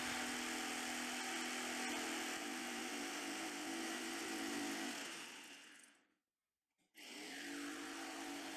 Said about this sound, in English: now I'm just using a jigsaw to cut it through